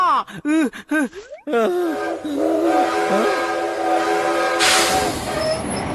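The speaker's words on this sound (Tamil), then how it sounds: "Attention passengers, train இப்ப கிளம்பியாச்சு." An animated cartoon train pulls out of a station, a long loud horn blast rising over rumbling wheels and clattering cars, after a brief burst of voices at the start.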